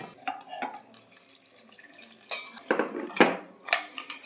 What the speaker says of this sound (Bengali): এইটাকে এবার জল দিয়ে ধুতে হবে